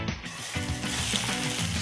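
A fish lies frying in a wok brushed with a thin layer of hot oil, giving a dense, steady crackling hiss with fine rattling pops, close and fairly loud, with no voices.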